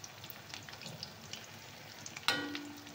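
Dough fries in hot oil on a stove, giving a soft continuous sizzle with scattered light crackles and a sharper hiss when more is added near the end, close and fairly quiet.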